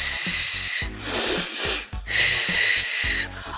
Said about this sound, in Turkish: Burnumuzdan nefes alıyoruz.